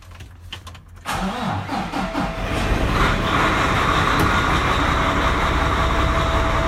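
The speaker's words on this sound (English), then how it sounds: "always make sure that the clutch is in when you start it up" A truck engine, started with the clutch held in during a pre-trip inspection, cranks briefly, then catches and settles into a loud, steady, rumbling idle close by, with no talking.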